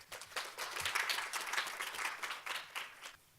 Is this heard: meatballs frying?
no